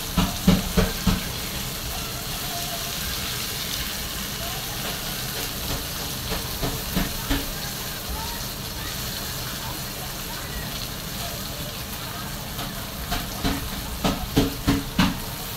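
Okra (bhindi) frying in a pan hisses steadily through the whole stretch, with occasional clusters of spatula taps and clatter, and a voice talking over the cooking.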